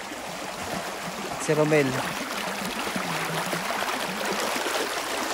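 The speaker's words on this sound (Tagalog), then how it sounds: "Malakas yung agos niya." Strong current of a deep river stretch rushing steadily as a broad, continuous wash of water noise, close and fairly loud, with a brief voice speaking over it.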